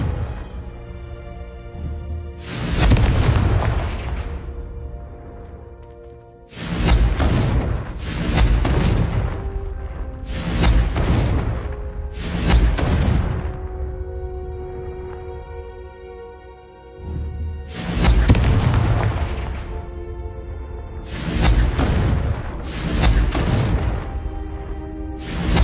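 Repeated Confringo blasting-spell explosions in the video game Hogwarts Legacy, six loud booming bursts spaced a few seconds apart, each trailing off into a ringing tail, with no talking.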